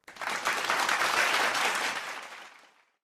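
Virtual clap from a congregation during a daily morning devotion: a dense, steady burst of many hands applauding that holds for a couple of seconds and then fades out.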